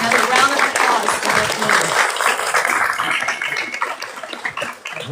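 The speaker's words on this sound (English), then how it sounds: "Another round of applause for" Another round of applause breaks out from a town hall audience, dense clapping that is loud at first and slowly thins out over five seconds, with some voices mixed in.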